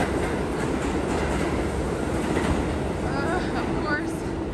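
A train passes through a station with a steady, loud rumble of wheels and rail noise that fills the whole stretch, alongside faint high squeals near the end.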